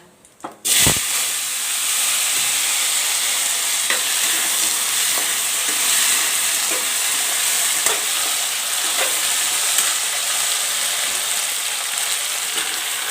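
Potatoes and bell peppers fry with cumin in hot oil: a short clatter, then a loud, steady sizzle and hiss that lasts throughout, with faint stirring scrapes.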